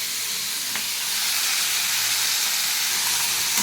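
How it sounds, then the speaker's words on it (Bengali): Steady, dense sizzling hiss as chopped beans, carrot, potato and capsicum cook in a hot pan with meat pieces for a curry, a continuous frying roar with no talk over it. "কেটে রাখা সবজিগুলোও দিয়ে দিচ্ছি। বিনস, গাজর, আলু, শিমলা মির্চ"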